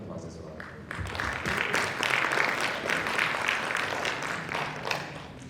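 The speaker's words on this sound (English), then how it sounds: "Please join me in giving Pak Yos a warm round of applause as well" Audience at a business-school session applauds a speaker, a brief swell of clapping that rises after a quiet first second, holds steady, and eases slightly toward the end.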